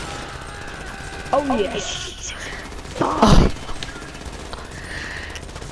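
Gunfire in Grand Theft Auto: a short, loud burst of rapid shots rings out midway, with brief voices and game ambience around it.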